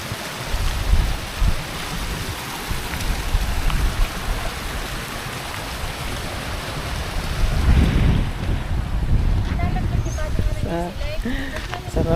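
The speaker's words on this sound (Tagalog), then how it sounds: "mahangin." Steady wind gusting past the microphone along a walking trail to Anuplig Falls in Adams, Ilocos Norte, a continuous broadband rush that swells louder near the end, with people talking through parts of it.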